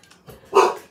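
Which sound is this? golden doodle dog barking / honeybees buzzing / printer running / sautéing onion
golden doodle dog barking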